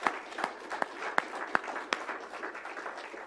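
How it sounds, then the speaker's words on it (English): A crowd at an Alberta announcement for a new Enoch Cree Nation surgical facility applauds, with sharp, evenly spaced claps standing out over a soft, steady bed of clapping. "how about we give a big round of applause to him"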